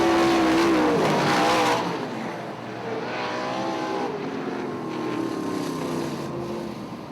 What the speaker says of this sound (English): here comes the fourth and final transfer. That number 26 of Gary Fast.